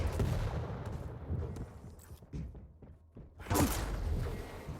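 Railgun shots ring out in a Quake Pro League match, sharp sci-fi cracks and thuds that repeat irregularly amid busy in-game action. A brighter, louder burst comes near the end, and no voices are heard.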